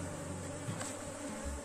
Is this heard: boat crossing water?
no